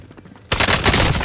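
Video game shootout gunfire: after a quiet half second, a sudden loud burst of rapid, dense shots fills the rest of the short moment, close and sustained.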